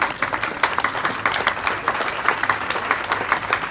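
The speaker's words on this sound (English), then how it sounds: "they deserve a round of applause" Steady applause from an opening-day crowd honoring city council members, many hands clapping at an even, sustained level with no letup.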